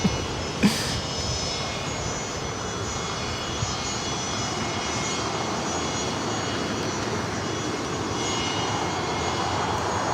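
A Gulfstream 4 business jet at Los Angeles airport fills the scene with a steady, broad engine roar, loud and continuous, with a brief click near the start.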